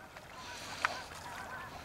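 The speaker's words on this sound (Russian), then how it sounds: "Проходили гуси безобразно" A single wild goose honk rings out briefly over steady outdoor background noise in a field near ponds in Canada at dusk, with a fainter call a moment later.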